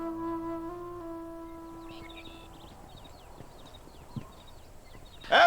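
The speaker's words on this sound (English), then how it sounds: "There is horses." Horse hooves clip-clop in the Red Dead Redemption video game, a steady walking rhythm at moderate distance with faint bird calls and a sharp sound near the end.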